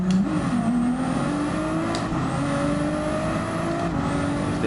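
Race cars in the Gran Turismo video game roar close and loud, engines climbing through the gears in rising whines, with sharp shifts and a continuous, dense motor drone throughout.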